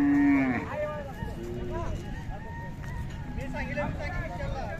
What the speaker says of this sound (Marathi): काजळी खिल्लार गाय आहे